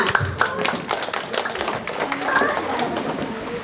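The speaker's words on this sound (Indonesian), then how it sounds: "Tepuk tangan buat semua." Audience clapping at an installation ceremony for the board of the Sikumbang clan association in Bandung, a scattered run of hand claps spread across the clip with voices and crowd chatter underneath.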